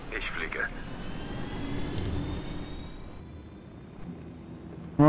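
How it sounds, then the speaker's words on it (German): A helicopter in the Ghost Recon Wildlands video game drones steadily nearby, easing off slightly before a sharp noise at the end. "Hubschrauber, bitte einsteigen."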